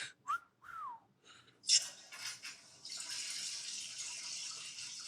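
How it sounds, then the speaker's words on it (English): A toilet flushing, heard as a rising rush of water that swells after a few short whistly squeaks and holds steady as a continuous hiss to the end, fairly close and with no talk over it. "Is that a toilet flushing?"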